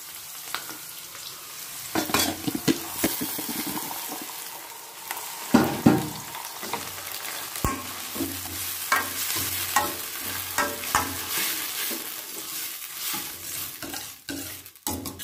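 Tomatoes sizzle and fry in a pan while a spoon stirs them, with steady crackling throughout, intermittent scraping and clinks of utensil against pot, and no talking.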